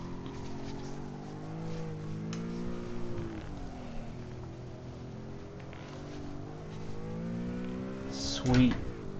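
Race car engine in a snow-day racing sim, a steady drone with rising and falling pitch as it revs, tire noise and a brief louder burst near the end, under quiet talk.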